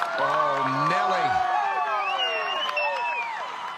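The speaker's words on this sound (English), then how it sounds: "The crowd is so loud, they think it may have gone in." A golf gallery at the final round of the 2024 LPGA Drive On Championship roars, with rising whoops and shouts swelling into a loud, sustained cheer.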